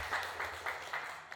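Faint, sparse clapping from a small audience at the opening ceremony of an art exhibition, a few soft bursts of hand claps that thin out, with no talking over them.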